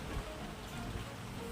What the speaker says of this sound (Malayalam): സൗണ്ട് കേൾക്കുന്നുണ്ട് മഴയുടെ.